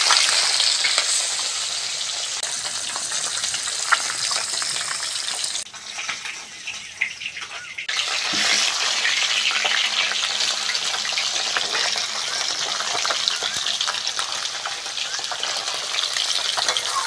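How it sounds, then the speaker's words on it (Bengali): Bhola fish fries in mustard oil in a wok, a loud, dense crackling sizzle that briefly drops away for a couple of seconds before surging back, close up with no talking. "উনুনটা ধরিয়ে মাছটা আগে ভেজে নেবো।"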